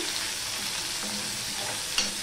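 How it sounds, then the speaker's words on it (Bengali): Garlic sizzles steadily in hot oil in a pan while cooking a leafy greens dal, with a soft continuous crackle and a brief clink of stirring near the end. "দেখো রসুনটা লাল লাল করে ভেজে নিয়েছি"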